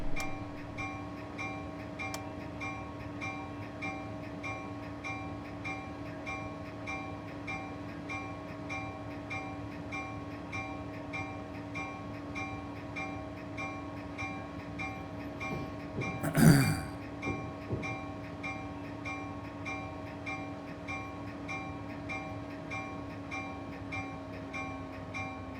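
Amtrak Acela train in a Train Simulator game pulling into Penn Station on the Northeast Corridor, a steady electric hum and rolling drone with a brief sharp clank midway, no voices.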